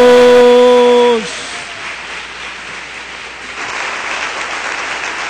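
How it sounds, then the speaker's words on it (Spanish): Church congregation claps hands together as a loud sustained tone ends abruptly, leaving a broad, continuous wash of many people clapping that holds steady and swells slightly toward the end. "Y no dejes de aplaudir. Clap your hands."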